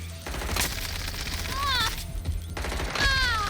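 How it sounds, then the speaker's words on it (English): Several gunshots crack out during a firefight in Watch Dogs: Legion, mixed with whining effects and shouted voices in a short, busy burst of noise. "They're shooting! Taking fire!"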